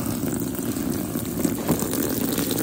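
Water pours steadily onto a budget Temu motorbike luggage bag in a waterproof test, a continuous close splashing gush with no break.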